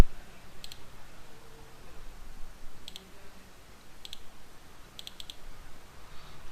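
A computer mouse clicks while a Word document is saved: sharp, quiet clicks come singly and in quick pairs over a few seconds against a faint room hiss, with no talking.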